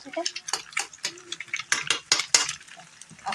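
A metal spatula scrapes and taps in a frying pan as egg is stirred and broken up during chow mein cooking, giving quiet, irregular clinks and scrapes over a faint sizzle.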